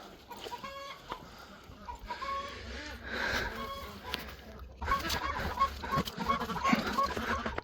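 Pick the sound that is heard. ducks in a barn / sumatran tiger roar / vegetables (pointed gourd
ducks in a barn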